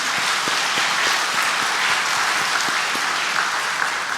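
A church congregation in a Korean sermon applauds together, giving steady, dense clapping throughout that fills the room.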